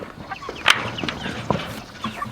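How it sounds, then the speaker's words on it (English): Bielefelder chickens on a farm give short, scattered clucks and chirps, close by and moderately loud, against a light outdoor background. "I hear the chickens."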